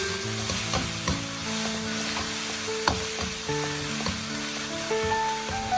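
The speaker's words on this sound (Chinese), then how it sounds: "再次加入少许的豆瓣酱，少许的辣椒酱，再加入一点辣椒面，继续快速的翻炒，炒出它们的香味。" River snails stir-fry in a wok with chili bean sauce, chili paste and chili powder, making a loud continuous sizzle broken by repeated scraping and stirring clatters, with no voices.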